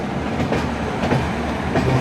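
A train hauled by Ghaziabad-based locomotive 37392, the Gondwana Express bound for Bhusawal, passes an Indian railway platform with a loud, steady rumble and rhythmic clickety-clack of wheels on the rails.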